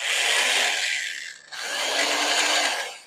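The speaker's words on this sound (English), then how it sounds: "The Sears Craftsman reconditioned drill from the pre-war era" A high-pitched reconditioned pre-war Sears Craftsman electric drill whirs steadily, briefly slowing to a near stop midway before spinning back up to full speed, close and alone.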